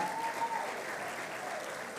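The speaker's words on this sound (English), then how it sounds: "A round of applause for you." Audience applause for Ministry of Education (Minerd) teachers at a plenary session on classroom dynamics: steady, dense clapping from a large crowd, sustained and even throughout.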